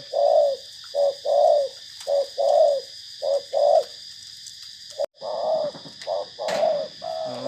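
A spotted dove in a cooing contest gives repeated rhythmic coos in two runs separated by a short pause. The calls are loud and close, with a steady high-pitched background tone.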